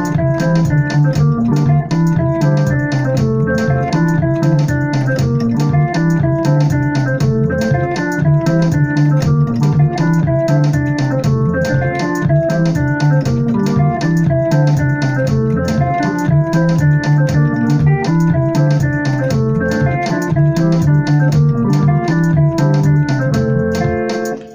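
Piano playing a makossa groove with a bass line in a tutorial, a busy rhythmic pattern of chords over a bouncing low line, continuous and close for the whole stretch.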